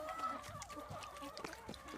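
Beakless hens clucking and pecking at tomatoes, a soft busy chorus of short clucks close by, faint overall.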